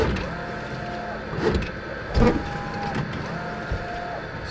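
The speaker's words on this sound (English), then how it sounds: "So the printer prints the alignment pattern and then cuts it." An Epson SureColor F570 dye sublimation printer prints and cuts an alignment pattern, giving a steady mechanical whir with carriage movements and a few louder clunks, while a voice briefly speaks.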